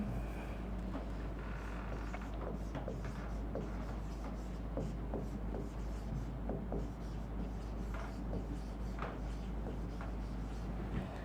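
Pen scratching across a board or paper while a teacher writes out notes for a biology lesson on plant classification, a steady run of short strokes and taps under a low constant hum.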